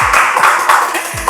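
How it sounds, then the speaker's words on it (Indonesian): Brief applause from a group, fast overlapping claps with a low thump now and then. "Beri tepuk tangan untuk bintang tamu kita selanjutnya."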